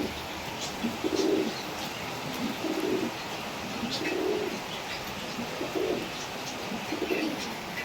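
A Shahjahanpuri bhura pigeon gives about five low, rhythmic coos at steady intervals, close by, over a constant background hiss.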